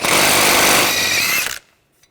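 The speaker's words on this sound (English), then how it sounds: "I'm just going to use an air hammer." A loud, rapid pneumatic air hammer rattles continuously for about a second and a half while removing a front CV axle on a 2013-2019 Ford Escape, then cuts off abruptly into near silence.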